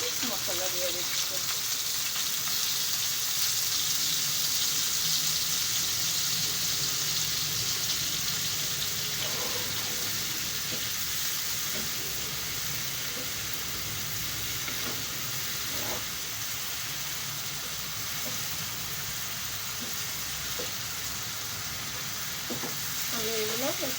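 Ground spice paste fries with hilsa fish tail and pumpkin for a Bengali dish. A loud, dense sizzle continues throughout, with periodic stirring scrapes and a voice speaking faintly underneath.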